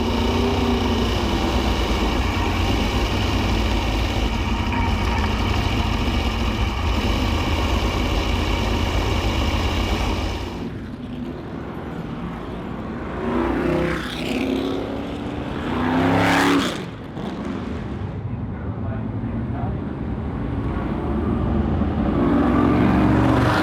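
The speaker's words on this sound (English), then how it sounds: "As you can tell by the noise, the cars have left start finish to begin their first lap under yellow." Vintage Can-Am race cars, including a 1968 Lola T160, pull away from the start-finish line under yellow; a loud, dense engine roar holds for ten seconds, then drops to a quieter, more distant drone that swells again.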